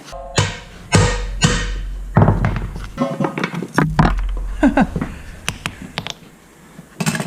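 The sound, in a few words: hammer pounding a U-joint cap out on an anvil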